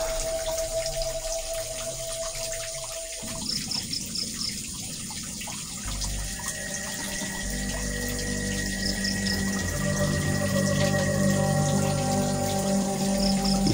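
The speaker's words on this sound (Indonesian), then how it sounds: "Itu adalah air rezeki dari Allah ya. Masya Allah, kencang sumbernya." Strong flow of water from a spring inside a swiftlet-nest cave, a steady rushing gush that swells louder partway through and runs continuously to the end.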